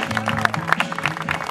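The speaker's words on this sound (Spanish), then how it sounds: "Bravo, un aplauso, por favor." Audience applause at a live event, steady dense clapping from a crowd with a few voices and music tones underneath.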